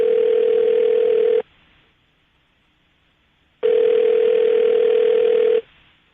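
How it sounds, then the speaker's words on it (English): A steady telephone tone plays loud and clear for over a second, stops for about two seconds of silence, then returns for another long stretch. "I'm going to dial the phone number right now"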